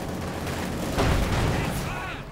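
Tank gunfire from a Panzer IV in the video game Company of Heroes 2, with a heavy booming shot and rumbling artillery-like blasts over continuous battle noise, while a commentator talks over it.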